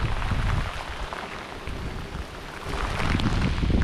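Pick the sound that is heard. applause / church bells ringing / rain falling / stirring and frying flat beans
rain falling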